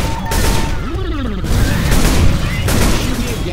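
Gunfire in the co-op shooter Left 4 Dead 2 crashes out in loud, repeated booming shots alongside game effects, with players talking over the action.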